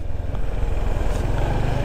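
A Honda ADV 160 scooter is ridden near Sived Beach in Sto. Domingo, Ilocos Sur, its engine giving a steady, close, low rumbling drone with faint wind noise and no talk.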